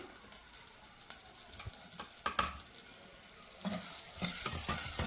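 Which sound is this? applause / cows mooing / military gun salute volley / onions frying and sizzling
onions frying and sizzling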